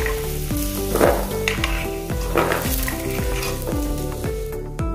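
Water chestnuts (singhara) fry loudly in oil, a bright close sizzle with rhythmic scraping and clinking of a utensil repeating roughly every half second throughout, and no speech.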